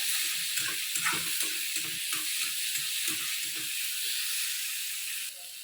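Tomatoes and onions sizzle steadily as they sauté in a hot pan, a constant hiss with soft rhythmic stirring scrapes underneath.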